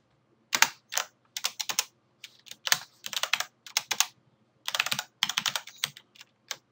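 Fast bursts of typing on a computer keyboard, crisp clustered keystrokes separated by short pauses, close and clear with no talking.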